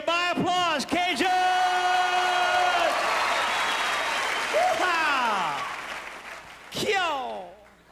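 Live Cajun storytelling audience applauding and cheering loudly for nearly eight seconds, with whoops and yells rising above the clapping, a shouted voice cutting through near the end.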